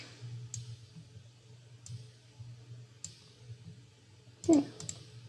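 A computer mouse clicks while a path is drawn in Adobe Illustrator: three evenly spaced single clicks, then a quick cluster of clicks near the end, all close and crisp over a faint low hum.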